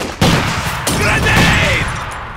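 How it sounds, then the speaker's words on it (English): Machine gun fire in Company of Heroes 2, loud continuous rattling bursts with sharp onsets near the listener, dense and sustained throughout. "Man that machine gun. Incoming rounds!"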